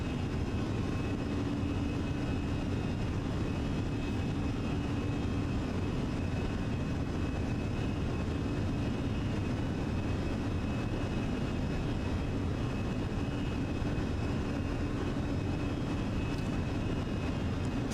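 Simulated Airbus A320 engines (Fenix A320 in Microsoft Flight Simulator) hold climb thrust as a steady, unbroken cabin drone with a faint high whine, even and moderate in level throughout, with no voices.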